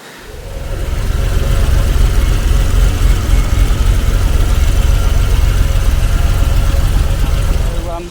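A Triumph TR6's 2.5 litre, 150 horsepower straight-six cranks and catches, then settles into a loud, steady, low idle that runs close by and fades slightly at the end.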